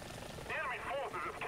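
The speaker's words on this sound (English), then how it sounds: "There's a helicopter above me, harassing me." A helicopter hovers overhead in the War Thunder tank battle game, its engine making a wavering whine over a low rumble.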